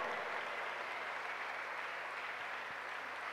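Steady, dense applause fills the clip from start to finish, a large crowd at a church seminar clapping continuously with no pauses and only a faint voice beneath.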